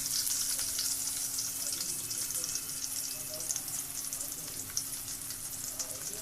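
Chopped onion and garlic frying in hot oil give a steady, bright sizzle that runs evenly throughout, close and fairly loud, with a faint low hum underneath and no talking.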